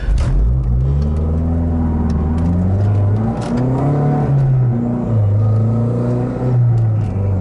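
A car engine with Damond TMM and PMM mounts installed drones loudly from inside the vehicle, rising and falling in pitch as it accelerates and shifts while driving.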